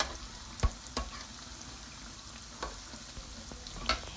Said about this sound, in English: Deep fry tofu to the golden color and turn to other side.